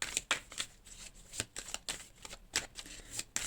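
Tarot or oracle cards shuffled for a reading, a run of quick riffling bursts with sharp papery snaps in an uneven rhythm, close and fairly quiet with no voice.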